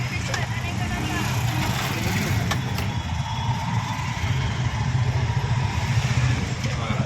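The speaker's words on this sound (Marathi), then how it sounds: "आपली गाडी चालली आहे." A CNG auto rickshaw running through city traffic, a steady close engine drone with a rhythmic low rumble throughout, with people talking over it.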